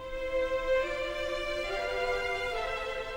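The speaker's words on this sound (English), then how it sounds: "I came across Symphony number 41 and it sounds like this." An orchestral recording of Mozart's Symphony No. 41 plays steadily for a few seconds, with strings and winds sustaining layered, harmonically rich tones at a moderate level and no voices.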